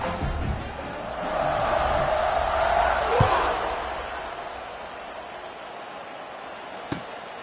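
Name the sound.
stadium crowd cheering at kickoff in football video game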